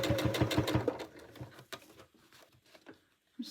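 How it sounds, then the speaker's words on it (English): A sewing machine backstitches while making a fabric scrunchie, a quick burst of close needle chatter that slows into a few scattered stitches and soft clicks. "I'm just going to backstitch a little bit."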